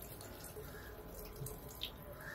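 About 1.5 litres of water pours into a pot of vegetables for soup, a steady close rushing splash that lasts throughout.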